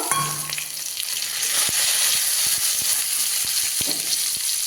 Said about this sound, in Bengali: এবার চেরা কাঁচা লঙ্কাগুলো দিয়ে দেবো